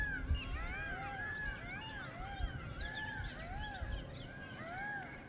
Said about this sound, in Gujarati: જો મારી પાછળ મોર બોલી રહ્યા છે.